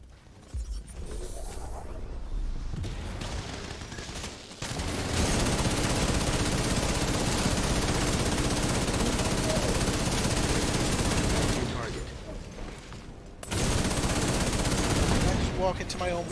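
Rapid automatic gunfire rattles in long sustained bursts during a firefight in The Division 2 set in New York City, loud and close, with brief pauses between volleys.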